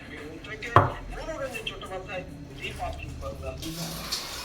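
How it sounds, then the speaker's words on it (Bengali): A knife chops onions on a board at home, giving a few close, irregular cuts, one sharp knock standing out, under steady conversational talk. "হ্যাঁ, চাটা খেয়ে এখন বসেছি পেঁয়াজ কাটতে"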